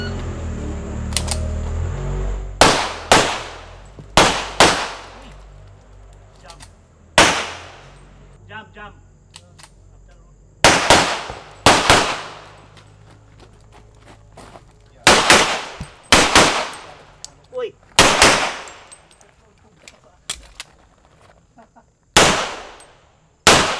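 Loud gunshots from a fully customized TMG Resolute 100 at a firing range, about a dozen sharp reports fired singly and in quick pairs with short pauses between, echoing in an open range with faint background noise.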